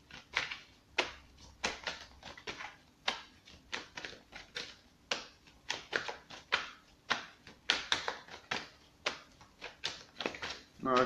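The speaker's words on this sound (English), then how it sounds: "For some reason I cannot shuffle properly this morning." Repeated riffling flicks of tarot cards being shuffled, quick bursts in an uneven rhythm, close by with no talking.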